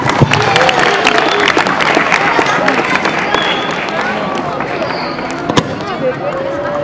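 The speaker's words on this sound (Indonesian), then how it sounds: "boleh dong sekali lagi tepuk tangannya buat Ibu Om Komaria yang tercinta" A school event audience at a class project presentation applauds for a teacher, with dense clapping that sounds loud and near while voices and cheers from the crowd mix in.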